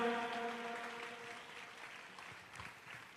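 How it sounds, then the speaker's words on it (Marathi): Loud, sustained applause from a church congregation welcoming pastors and servants, a steady crackle of many hands that fades slightly toward the end, with soft tonal music underneath. "जोरात टाळी वाजूया आपण"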